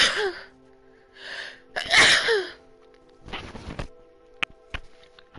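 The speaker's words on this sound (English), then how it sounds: "end a meeting with a sneeze" A woman sneezes indoors at the end of a chat, a sharp close burst with a breathy lead-in, followed by brief rustling and a few small clicks.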